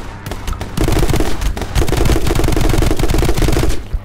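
Loud, close rapid-fire shooting from a newly picked-up gun in the game My Friend Pedro, with fast bursts of shots running almost continuously.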